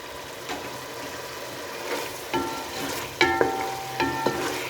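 Chicken frying in a masala spice paste in a pan, a steady close sizzle with occasional stirring scrapes and clinks of a utensil, no talking.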